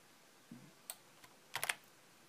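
Typing on a computer keyboard during website setup, a few quiet isolated keystrokes followed by a short quick cluster of clicks, close by in an otherwise silent room.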